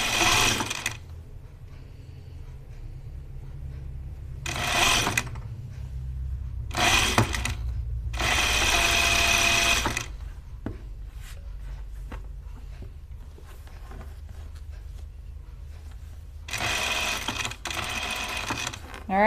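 A sewing machine stitches around the armhole of a coat in several bursts of rapid whirring, some short and one longer, separated by quiet pauses filled with a low background hum and small handling noises.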